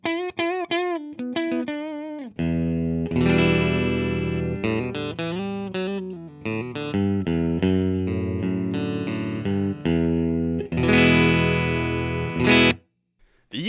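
An electric guitar plays through the normal channel of a 1972 Fender Super Reverb amp, starting with a few bent single notes, then strummed chords and melodic runs, loud and sustained, ending with a fade and a brief tap.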